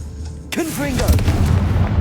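A Confringo fire spell bursts with a heavy booming blast in Hogwarts Legacy, a loud sudden impact followed by rumbling debris and game effects, with a voice shouting the spell over the action.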